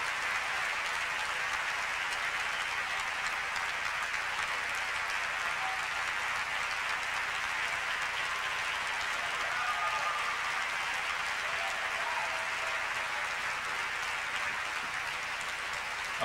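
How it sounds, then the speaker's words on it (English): Congregation at a Brownsville church service applauding to welcome a guest preacher, a steady, even wash of clapping that holds at the same level for the whole stretch with no breaks. "clap your hands to Jesus"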